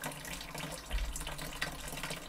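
Water flowing through the hopper of a gold drop concentrator, a continuous rushing, splashing wash at close range with no pauses.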